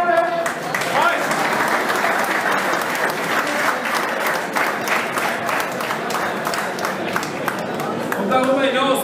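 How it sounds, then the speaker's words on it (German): An audience at a professional boxing event, the Recover Fight Club, breaks into sustained applause, dense clapping filling the hall at fairly loud level, with an announcer's voice over it at the end. "ein herzlicher Applaus."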